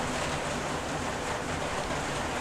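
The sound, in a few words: rain falling on a plastic roof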